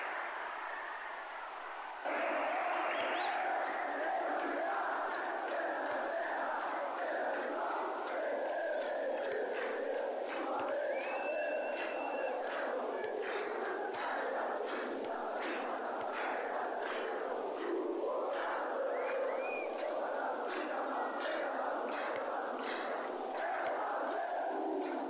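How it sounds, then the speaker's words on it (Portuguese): A football crowd at a Flamengo Copa Libertadores round-of-16 match urges its team on with a steady, loud massed roar and chanting that fills the whole stretch without a break. "A torcida incentiva."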